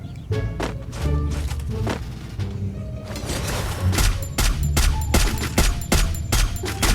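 Rapid bursts of gunfire from the Free Fire battle royale game crackle loudly and almost continuously, with sharp repeated shots growing denser toward the end and thumping impacts beneath.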